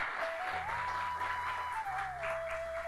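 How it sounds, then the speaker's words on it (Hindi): An audience at a World Hindi Day event in London gives quiet, distant applause, a soft continuous patter heard behind a steady electronic tone. "एक बार ताली से उनका सम्मानित करें।"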